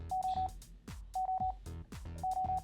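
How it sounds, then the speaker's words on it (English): A HyperX Stinger wireless gaming headset sounds its max-volume beep notification: three clusters of quick, bright electronic beeps, evenly spaced and close up. "you get a beep, a little beep notification in the headset"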